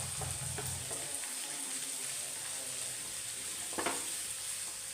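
Shallots sauté in a pan for a beef curry, giving a soft, steady sizzle with a few light clinks from stirring near the start and toward the end.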